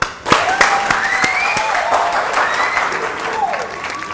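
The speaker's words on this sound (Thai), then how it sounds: "ปรบมือดับเบิลดีฟหน่อย" Audience applause at a Thai XRP trading seminar, a thick burst of clapping that swells quickly and carries on steadily for four seconds, with a crowd murmur and a few whistling tones beneath it.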